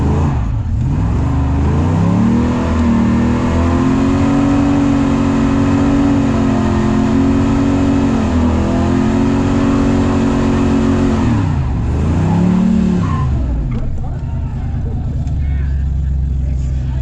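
Car at a drag race doing a burnout: a loud, sustained engine roar holds high revs for several seconds, dips, surges again, then drops away near the end, with crowd noise underneath.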